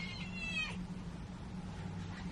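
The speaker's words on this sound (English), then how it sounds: "Where's my cat? I want my cat to be here." A domestic cat gives a single clear meow near the start, close and moderately loud, followed by quiet room tone with no talk.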